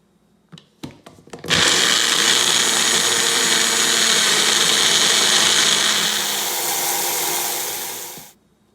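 After a few sharp clicks and knocks, a blender whirs loudly and steadily for about seven seconds, blending an Indian-style jerk chicken marinade with almonds, then winds down and stops.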